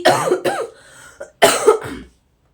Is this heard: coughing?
yes